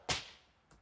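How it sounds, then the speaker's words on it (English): A manufactured bullwhip crack built from two layered samples: one sharp, loud snap that decays over a few tenths of a second, then a softer, shorter second crack near the end. "last thing I have here is kind of like a bullwhip sound"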